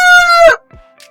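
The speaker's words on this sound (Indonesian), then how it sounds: "Kita coba play kembali suara ayam." A chicken's recorded call, cleaned of background noise, sounds as one loud, close, harmonic squawk that cuts off quickly, followed by a faint short trailing note.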